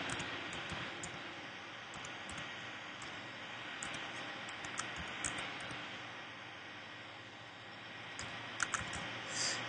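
Someone types a card number on a computer keyboard during online checkout, a steady close run of soft key clicks over a constant low hiss, with no talking.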